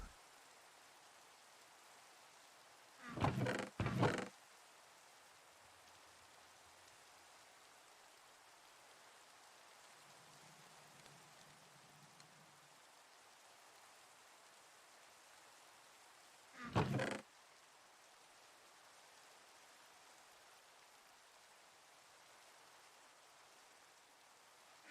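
Steady rain falling during a thunderstorm in a Minecraft-style block game, a soft continuous hiss without thunder, broken by a couple of short, louder bursts of game noise.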